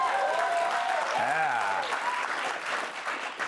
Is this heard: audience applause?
yes